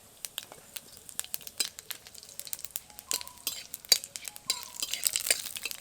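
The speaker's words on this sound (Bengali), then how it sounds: "ফোড়নটাকে ভালো করে ভেজে নিয়েছি," Whole spices, dried red chillies and bay leaf fry in mustard oil while being stirred, giving soft sizzling with repeated light scrapes and clinks of a spoon against the pan, close and fairly quiet, with no talking.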